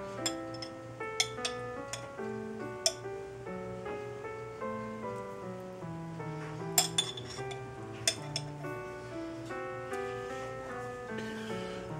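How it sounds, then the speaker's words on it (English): Chicken is mixed with grated ginger and garlic marinade in a bowl, giving scattered sharp spoon clinks against the dish over steady background music. "And now we'll just mix it well and leave it for about an hour"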